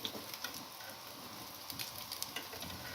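Chicken meatballs sizzle and crackle in hot oil in a pan, a steady frying hiss with scattered sharp pops.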